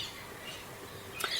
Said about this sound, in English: There are also pigeons and brown hawks and, of course, the ever-present crows.